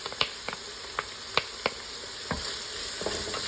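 Onions and vegetables sauté in a pan for white bean soup, with a soft steady sizzle broken by occasional scraping taps of a utensil stirring, close and quiet with no talk.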